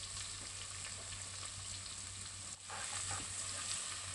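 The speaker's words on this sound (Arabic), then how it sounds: "رح اضيف على نفس الزيت عشان ناخذ نكهة اللحمة. رح اضيف البصل والثوم" Onion and garlic fry in oil left over from browning meatballs, producing a continuous, even hiss of sizzling at low level with no talk.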